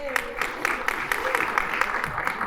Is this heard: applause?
yes